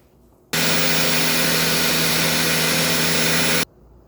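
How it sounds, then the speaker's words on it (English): A blender regrinds sprouted chickpeas into flour, a loud, steady motor whir with a bright gritty roar that starts abruptly, runs for about three seconds and cuts off sharply. "I'm going to put it back in the blender and see if I can get it a tiny bit finer than this."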